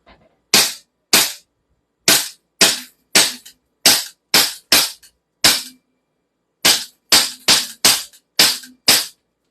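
A CZ Shadow 2 air pistol powered by CO2 fires about fifteen sharp, loud shots up close, spaced irregularly in quick pairs and singles, with a short gap partway through.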